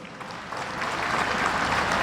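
A crowd applauds at the Aksu oil wrestling event of 2019, the clapping steady and building slightly in loudness across the whole stretch.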